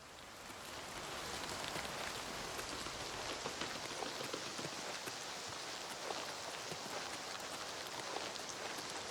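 Steady rain falls in a rainforest-like area of the video game Oblivion Remastered, a continuous even hiss with dense pattering drops that holds at a moderate level throughout, with no voices.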